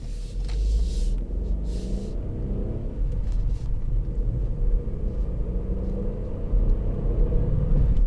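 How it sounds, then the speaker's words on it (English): Low, steady engine rumble and road noise from inside a 2018 Ford Fiesta 1.0 EcoBoost three-cylinder ST-Line X while driving, moderate volume with faint cabin sounds, no talking. "I struggle to get used to the sound of a 3-cylinder."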